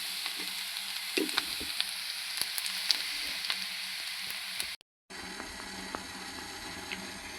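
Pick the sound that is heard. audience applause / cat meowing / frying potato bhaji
frying potato bhaji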